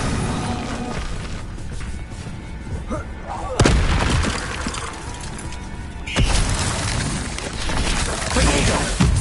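Incendio fire spells cast in Hogwarts Legacy, two sharp whooshing bursts of flame a few seconds apart, loud and close over a busy crackling combat backdrop.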